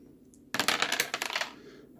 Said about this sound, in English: As my dice go everywhere.